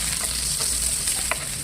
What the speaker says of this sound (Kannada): ಸ್ವಲ್ಪ ಎಣ್ಣೆ ಹಾಕ್ಕೊಂಡು ನಾವು ತಗೊಂಡಿರೋ ಈರುಳ್ಳಿ, ಶುಂಠಿ, ಬೆಳ್ಳುಳ್ಳಿ ಇದೆಯಲ್ಲ ಅದನ್ನು ಹಾಕ್ಕೊಂಡು ಸ್ವಲ್ಪ ಫ್ರೈ ಮಾಡ್ಕೊಳ್ಳುವ